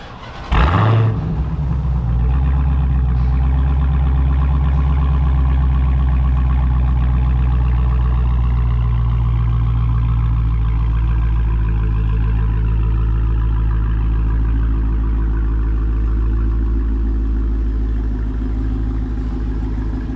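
A Dodge Hellcat engine with its stock exhaust starts up close and loud, then holds a deep, steady exhaust rumble at idle, with no voices over it.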